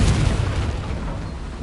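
A Confringo blasting curse in a Harry Potter video game detonates in a loud, sustained deep boom that rumbles steadily through the whole moment, heavy with low-end weight and no voices.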